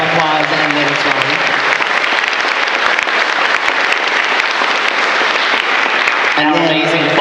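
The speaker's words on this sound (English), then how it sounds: "They deserve that round of applause and then some." Sustained, loud audience applause fills an auditorium at a convention's closing ceremony, dense and continuous clapping from a large crowd throughout.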